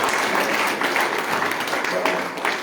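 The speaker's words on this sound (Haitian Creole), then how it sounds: "acclamez ce serviteur et acclamez frère Jean Elisha" Audience at a church revival evening applauding to welcome a servant, a continuous crowd of clapping and cheering with voices mixed in.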